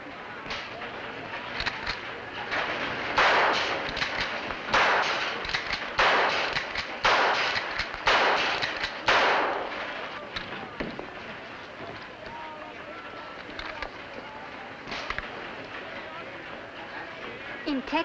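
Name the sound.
gunshots from target shooting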